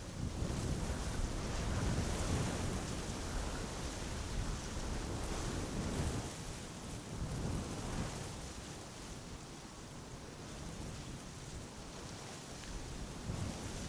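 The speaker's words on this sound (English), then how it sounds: "The wind is not slowing down yet." Strong crosswind sweeps across runway 18R/36L, the Polderbaan at Amsterdam Schiphol, as a loud continuous roar with surging gusts buffeting the microphone, and no one speaks.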